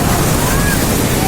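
Waves and wind on the Sea of Azov at a crowded beach in Urzuf, a loud, continuous rushing wash of surf and wind noise with faint background voices mixed in.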